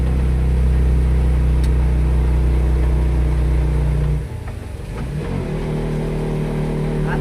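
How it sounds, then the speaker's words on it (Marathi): A car engine labours in second gear climbing the Tamhini ghat mountain road near Pune, a strong low drone for several seconds that suddenly drops, then resumes more quietly with light clatter. "आता सेकंडवर गाडी चढतोय बघा चढायला"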